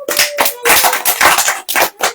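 A church congregation claps hands together in a quick, uneven rhythm, about eight loud, close bursts of clapping over two seconds.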